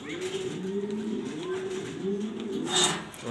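Low, continuous pigeon cooing from black Danish pigeons rolls along in overlapping phrases nearby, ending with a brief brighter rustle or flutter.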